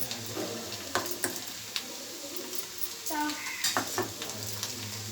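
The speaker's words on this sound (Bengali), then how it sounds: "আদা রসুন কাঁচা লঙ্কা একসঙ্গে বাটাটা দিয়ে দেবো" Ginger, garlic and green chili paste hits a hot pan for chicken kosha, with a steady sizzle, scraping stirs and a few sharp metal clinks from utensils against the pan.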